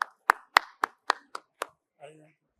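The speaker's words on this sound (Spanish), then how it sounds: "Por favor, la recibimos con un aplauso" A small audience at a medical talk on digital chest drainage monitoring greets a speaker with about seven sparse, crisp hand claps, followed by a brief murmur of voice.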